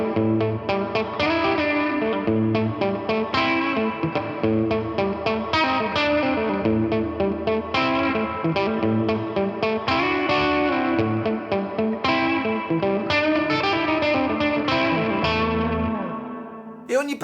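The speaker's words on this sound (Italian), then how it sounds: "Il preset plate ricrea perfettamente il suono dei riverberi vintage degli studi anni" An electric guitar is played through the plate reverb preset of a Hotone Verbera pedal, giving vintage-studio-style reverb. Steady melodic chords and notes with lush decay continue throughout and ring out at the end.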